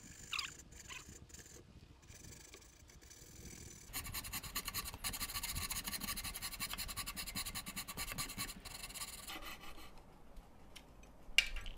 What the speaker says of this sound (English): I prefer to use the back saw just because it's a bit faster